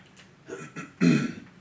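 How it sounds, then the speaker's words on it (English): A man clears his throat with a short low rasp, then a louder, harsher guttural burst about a second later, close and alone. "That guy's clearing his throat on YouTube."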